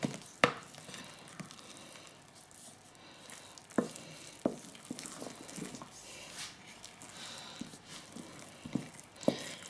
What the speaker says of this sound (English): This is surprisingly hard to stir, this amount.